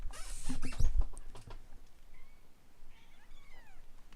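A cat meows faintly in the Neverwinter Nights: Enhanced Edition game Darkness Over Daggerford, with a few soft cries following a brief rustling burst.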